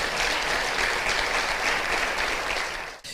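A church congregation breaks into steady, dense applause, a full roar of many hands clapping that holds for about three seconds before cutting off abruptly.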